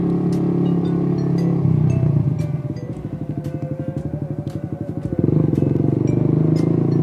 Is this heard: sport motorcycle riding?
yes